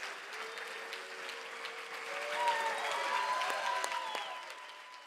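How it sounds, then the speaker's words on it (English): Banquet audience at an athletic trainers' awards dinner applauding its 2022 awardees, a sustained wash of clapping from a large room that swells midway and holds steady. "let's give another round of applause for our 2022 FWATA Awardees"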